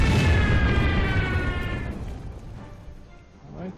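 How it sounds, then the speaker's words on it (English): A bombing run on an anti-tank unit in the war strategy game Order of Battle, Blitzkrieg at Mlawa, sets off a loud booming blast that rumbles and slowly dies away. "we can bomb the anti-tank"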